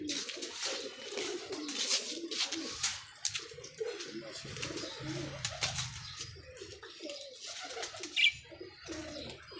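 Pigeons coo in low, throaty bursts over a steady background, with a few brief higher chirps scattered through.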